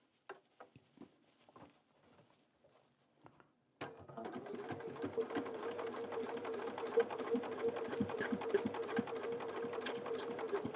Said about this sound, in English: So covering up that folded piece, I'm going to sew it like that.